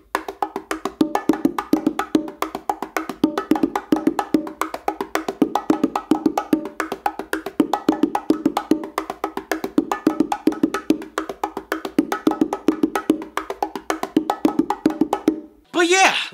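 Bongo combination exercise played all the way through: a continuous run of quick, crisp hand strikes in a steady driving rhythm, close and loud, with a short burst of another sound at the very end.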